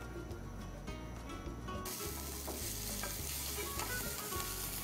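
Beef frying in a pan, a continuous close sizzle with scattered stirring clatter and scraping, steady in loudness and heard alone without talk.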